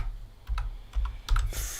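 Keys clack on a computer keyboard in a short, uneven burst of typing while someone enters a phrase of Python code, close and fairly quiet.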